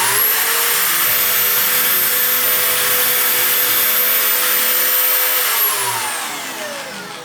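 A power drill with a 4 mm bit bores a hole for an M4 screw in a homemade jigsaw and router table, a loud, close, steady whine held for several seconds before winding down at the end.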